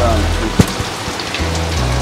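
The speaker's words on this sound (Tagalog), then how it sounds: "talagang tuloy-tuloy ng ulan, walang tigil" Steady, dense rain pours down close by as continuous broadband hiss, with a low hum and a couple of brief knocks mixed in and no clear speech over it.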